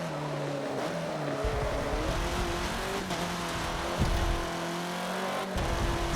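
Off-road buggies race in Forza Motorsport 7, engines whining through rapid gear shifts and revs, with close, loud acceleration and occasional tire noise running continuously.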